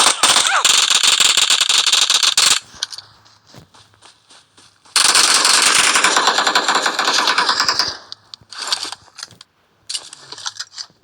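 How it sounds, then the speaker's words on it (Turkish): Video game firefight with bursts of rapid gunfire in two long volleys and a few shorter ones, broken by quieter gaps and clicks. "Aha burada bir çatışma var."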